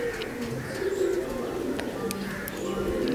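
A pair of white-eyed low-flyer pigeons coo softly and repeatedly at close range, with a few faint chirps from other birds in the background.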